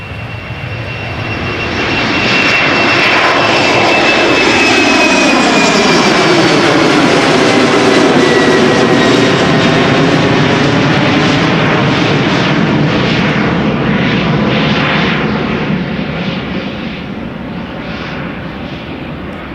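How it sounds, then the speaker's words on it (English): A KLM Embraer 190 jet departs Amsterdam Schiphol, its engine roar swelling as it approaches, peaking loud and close for several seconds with a sweeping pitch shift as it passes, then gradually fading away. "Number 190, going to Stuttgart, KLM flight 1831, operated by German Airways."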